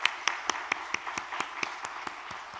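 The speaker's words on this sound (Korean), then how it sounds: "우리 박수로 한번 감사를 드립니다." A few people clapping in a church seminar hall, sparse and fairly regular individual claps in a short, close burst with no talk.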